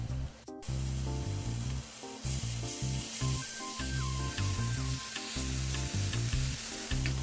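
Pork sauté sizzles and crackles steadily in a pan over high heat as its moisture cooks off, a loud, continuous frying hiss that runs under background music.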